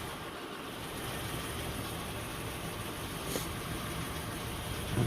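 A Honda Accord engine idles steadily at close range after a transmission pressure switch replacement, a constant low rumble with no talking.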